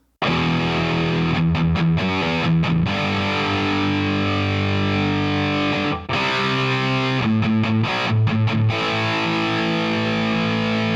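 A heavily distorted electric guitar plays a driving riff, chugging palm-muted notes with an added open E, broken by short choppy gaps, loud and up front with no voices.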